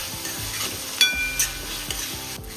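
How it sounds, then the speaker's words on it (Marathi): Chopped tomato roasts in a pan with a low, steady sizzle and a few sharp scrapes and knocks of a spoon stirring it, heard up close. "आता मस्त टमाटर भाजलेलं आहे"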